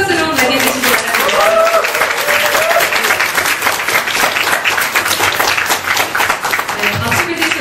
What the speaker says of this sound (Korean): 다시 한번 큰 박수로 맞이해주시기 바랍니다.